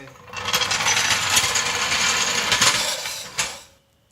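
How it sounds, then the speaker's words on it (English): A jack is let down beneath a John Deere zero-turn mower, giving a continuous mechanical hiss and rattle for about three seconds that then cuts off and leaves quiet. "let's carefully let down our jack. Move it out of the way."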